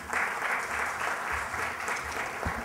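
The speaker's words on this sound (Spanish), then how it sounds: "Un fuerte aplauso, por favor." Audience applause at the inauguration of an International Data Protection Day event, a steady wash of many hands clapping together for a few seconds in an indoor hall.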